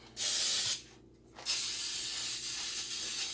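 Two bursts of cooking spray hiss loudly and close onto a cake pan, a short one then a longer steady one after a brief pause.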